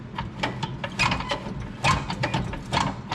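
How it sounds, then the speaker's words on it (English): Plastic and metal clicking and rattling as a brake linkage on a John Deere E100 series hydrostatic mower is slid in and clipped into place, a close cluster of small mechanical clicks. "We'll slide it in, and it clips over like so."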